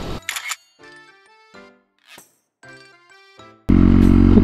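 Several soft camera shutter clicks and electronic beeps come in short separate bursts while photographing a waterfall, followed by a sudden loud roar of rushing water.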